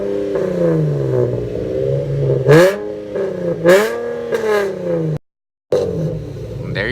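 Car engine revving hard at a crowded car meet, loud harmonic roars that rise and fall in several bursts with a brief dropout, close by and dominating the scene.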